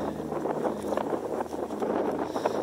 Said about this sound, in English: So really windy